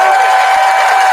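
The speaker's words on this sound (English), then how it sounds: "Listen to the applause that line got." Applause from an audience after a line in a speech, steady dense clapping with crowd noise, held at an even loud level for a brief moment.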